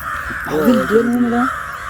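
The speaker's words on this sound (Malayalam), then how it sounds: "കാക്കത്തുരുത്തിലെ കാക്കകൾ" Crows on Kakkathuruthu island caw in a short burst of a few harsh calls nearby, heard over a steady outdoor background hum during a riverside fishing outing.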